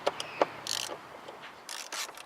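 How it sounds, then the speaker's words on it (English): A Torx 30 socket on a ratchet undoes the clamp screw on a car seat, giving quiet, close bursts of ratcheting clicks separated by brief pauses. "with your Torx 30 socket, just undo the screw"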